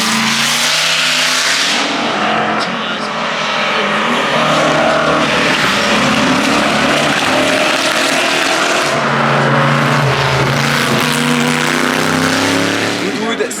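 The Ferrari 125S, the marque's first race car, runs at the Goodwood Festival of Speed, its engine droning loud and sustained throughout, with a voice talking over it.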